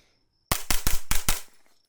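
A JP-5 firearm with a HUXWRX Flow 9K Ti suppressor fires a quick string of five sharp, close shots in rapid succession, followed by a brief fading tail.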